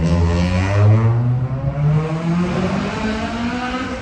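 A Honda Civic drives past at a car meet, its engine note loud and close with a steady drone that shifts in pitch as it goes by, then fades slightly.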